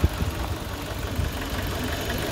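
A 1999 Mazda 323 with a 1.6 engine idles steadily nearby, giving a low, even rumble with a slight rhythmic pulse throughout and no voices.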